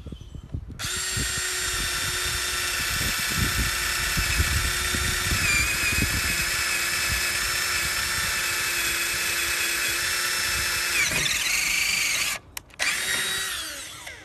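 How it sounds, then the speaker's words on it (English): A Black & Decker 20V Max cordless drill spins a half-inch bit, its steady high motor whine running loud and close for about eleven seconds before stopping, followed by a brief restart. "And final test, half inch drill bit."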